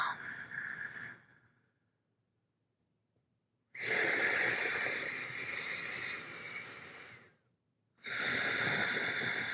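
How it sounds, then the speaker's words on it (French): Slow, deep breaths come during a guided meditation: a long, close, airy inhale or exhale, a near-silent pause, then two more strong breaths, each lasting a few seconds. "Inspire seulement profondément et expire profondément."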